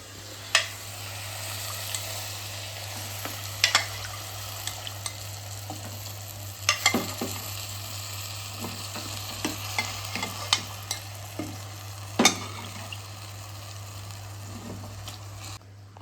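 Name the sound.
adding cooked mutton to pan and stirring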